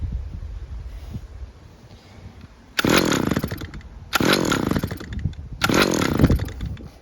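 A STIHL petrol string trimmer engine, having trouble staying running, revs up loudly in three roughly one-second bursts, dropping back to a low idle rumble between each.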